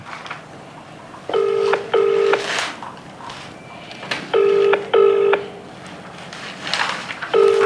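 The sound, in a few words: telephone ringing on a call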